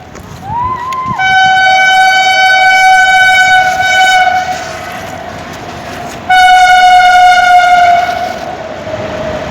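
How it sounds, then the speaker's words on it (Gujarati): A train passes close by with its horn sounding in long sustained harmonic blasts, first a sustained blast and then a second, louder one, over the steady rumble of the rail cars, with no talking. "તમને અવાજ સંભળાતો હશે ટ્રેનનો."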